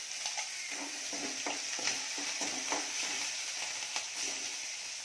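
Green chillies, curry leaves and onion roasting in a pan for masala paddu, a dense continuous hiss of frying with soft repeated stirring scrapes, close and steady, no talk.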